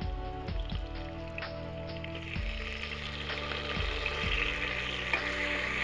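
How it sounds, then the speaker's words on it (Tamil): Onions fry in oil for a mutton biryani, a bright crackling sizzle that builds slightly over several seconds, joined by a steady tonal hum with a few pitch shifts in the background. "நல்லா இந்த போட்டிருக்கிற வெங்காயம் வந்து அந்த எண்ணெயில் வந்து நல்லா பொரிஞ்சிட்டு இருக்குது"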